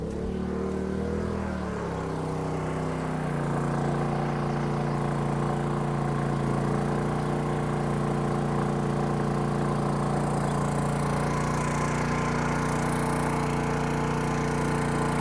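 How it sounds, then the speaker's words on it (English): A Honda 2200i Companion portable generator drones steadily and loudly nearby outside, a constant low mechanical rumble with no pauses, powering an air conditioner and refrigerator. "I already heard the generator kick up outside."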